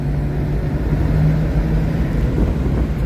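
A car on a test drive after a repair for vibration under acceleration gives a steady, moderate engine and road drone from inside the cabin, with no talk over it.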